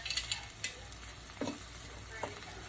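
Fat sizzling in a pan for southern fried cube steak, a soft steady frying hiss with a few sharp scrapes and clinks of a utensil stirring.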